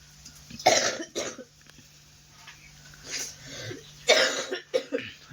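Several harsh coughs in bursts, a pair near the start and another cluster later, with quieter throaty sounds between; no talking.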